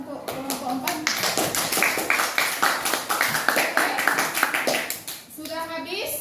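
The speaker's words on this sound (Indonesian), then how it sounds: "tepuk tangan untuk kelompok 4" Children in a classroom clap for a presenting group, a close burst of brisk, fairly even handclaps lasting several seconds, with voices chattering before and after.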